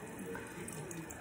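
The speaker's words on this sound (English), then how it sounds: "I don't like to leave that water running too long because that noise is annoying." A tap runs into a bathroom sink during a skincare routine, giving a soft, steady watery hiss heard alone at low level.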